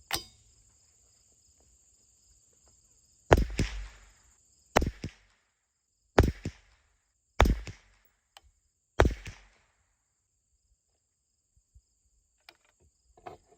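Five shots from an AR-22 .22 rifle firing SK long range ammunition, each a sharp, fairly loud crack with a short decay, spaced roughly one to two seconds apart over quiet outdoor background.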